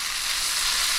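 Green banana hash browns fry and brown in a pan, giving a constant bright, close sizzle with no speech.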